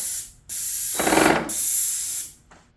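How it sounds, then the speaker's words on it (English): Close, loud hissing bursts from a Titan Impact X 120 airless paint sprayer, one steady spray, a rougher, louder pulse in the middle, then the hiss cutting off into near silence. "I've sprayed regular latex paint on walls with the HEA tip, doors, trim, molding with the fine finish tip."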